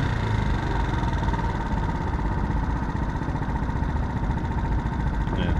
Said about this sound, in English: So it's idling now.